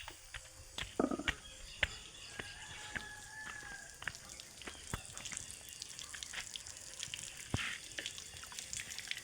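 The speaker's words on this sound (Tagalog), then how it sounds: "nag-agas na di ay" Water runs from a tap into a container, a soft steady trickle with scattered drips and clinks, fairly faint, with occasional distant sounds around it and no talk.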